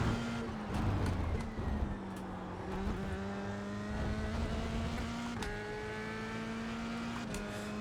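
An F3 race car laps the Red Bull Ring, its engine holding a steady high-pitched drone with rising tones through the gears and brief shifts, heard from onboard, loud and continuous, with no voices.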